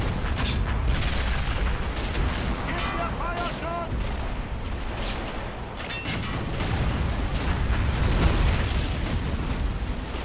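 Dense, loud battle noise from Men of War Assault Squad 2: rumbling artillery blasts, gunfire and clattering mechanisms overlap continuously, with voices talking underneath.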